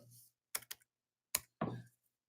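Several quick bursts of computer keyboard typing while entering an email, brief clustered keystrokes separated by short pauses, close and fairly quiet, with a faint low hum between.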